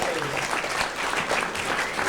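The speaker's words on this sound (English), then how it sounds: "We'd like to give him another round of applause for that." Applause from a talent show audience after a performance, a continuous broadband patter of many clapping hands, moderately loud and even throughout the short stretch.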